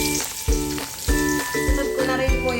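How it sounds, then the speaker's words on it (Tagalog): Minced garlic sizzles in hot oil in a cooking pot, a close, continuous crackle with stirring strokes scraping through it every half second or so. "Dahil mainit na po, lalagay ko na yung ating bawang."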